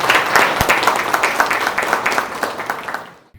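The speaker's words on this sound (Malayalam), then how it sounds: "കൈയടിക്കാം." An audience applauds at a BJP Ayyankali Jayanti celebration in Ernakulam East. The clapping is dense and fairly close for about three seconds, then fades out abruptly.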